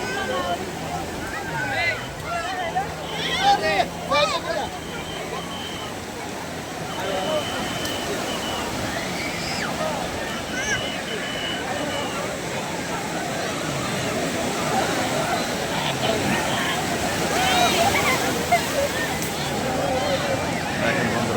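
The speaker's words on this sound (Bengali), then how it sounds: "দেখেন কত সুন্দর ঢেউ, কতটা শক্তি নিয়ে আসে।" Ocean waves at Sugandha Beach in Cox's Bazar wash and roll in a continuous surging roar, while someone talks over the surf for much of the time.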